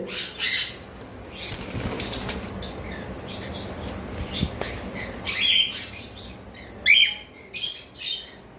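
Caged cockatiels for sale, bursts of wing flapping mixed with sharp chirps and squawks, close and uneven, with short bright calls scattered among quieter stretches of rustling.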